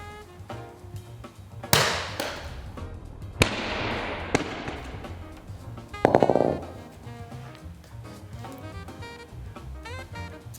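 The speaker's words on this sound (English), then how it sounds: "We're gonna drop one on the keyboard and one on the screen." Insoles strike a closed laptop, hitting the keyboard area and then the screen, giving a few sharp, loud, close thuds and slaps spaced seconds apart over a low background.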